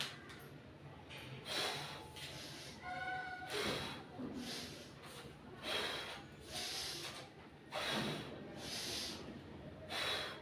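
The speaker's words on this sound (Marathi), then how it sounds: "श्वास घेणे नाकाने श्वास सोडणे तोंडाने" Rhythmic breathing during a full-body exercise routine, with a loud nasal inhale followed by a mouth exhale, repeating about every two seconds, close and clear.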